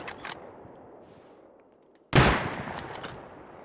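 A single sharp gunshot in a first-person shooter video game, loud and sudden, followed by a ringing tail and a few fainter crackles, with quieter game ambience before it.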